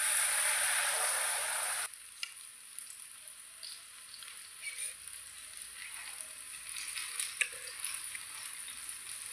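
Food sizzles in hot oil, a loud hiss at first that drops to a softer crackle with scattered pops and spatters, no voices.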